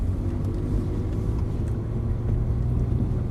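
A Ferrari pulls away gently up the pit lane under steady throttle, its engine a low, continuous rumble heard from close by, with no voices over it.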